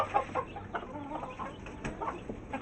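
Chickens and a rooster cluck softly and intermittently at close range while pecking at feed, a series of short, scattered calls over a quiet farmyard background.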